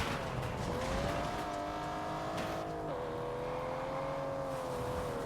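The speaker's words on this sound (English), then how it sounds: "That's what a car should sound like, though." A car engine in the game Test Drive Unlimited Solar Crown holds a steady high drone, pitch shifting slightly as it revs, with faint tire noise beneath.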